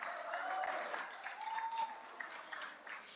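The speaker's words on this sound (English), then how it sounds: "let's just give you all a round of applause for showing up on a Monday evening" Audience applause at a Monday evening community conversation event at the Gathering Spot, a moderate steady patter of clapping that fades slightly, with a few voices murmuring through it and a sharp louder burst at the very end.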